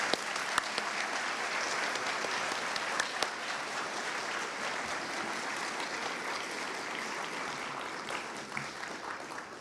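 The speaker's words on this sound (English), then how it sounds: "please join me in giving them another round of applause" Sustained audience applause for the young men in a speech competition, a dense, steady wash of many hands clapping from a sizeable crowd, holding at an even level for the full length without voices.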